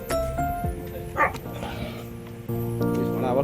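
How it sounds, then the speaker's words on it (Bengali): Dogs give a few sharp barks and yips nearby, spread across an outdoor island setting while people talk over them. "মানে আবার কুকুরগুলো আসছে।"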